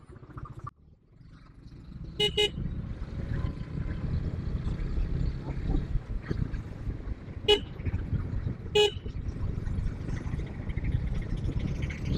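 A traffic jam heard from a KTM ADV250 motorcycle on a road near Parvathipuram, with a steady low rumble of engines throughout and several short, sharp horn toots from nearby vehicles, two in quick succession early on, then two more spaced apart.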